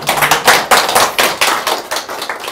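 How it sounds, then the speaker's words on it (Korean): Audience clapping at a lecture on preserving the Bangudae petroglyphs, heard as loud, close, irregular bursts of hands that come in uneven pulses rather than a smooth wash, with no voices. "다 같이 큰 박수로 시작하겠습니다."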